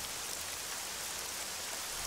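Rain pours onto and drips through the roof of a forest hut, a dense, steady hiss of drops filling the whole stretch with no voices.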